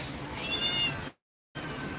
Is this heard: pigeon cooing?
no